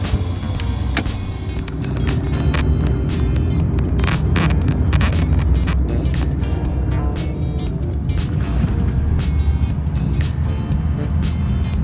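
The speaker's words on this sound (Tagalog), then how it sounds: "naririnig ninyo yung actual sounds ng bus habang umaandar" Cabin interior of a moving GV Florida sleeper bus, a loud continuous road rumble and engine drone with frequent sharp creaks and rattles from the fittings, heard alone throughout.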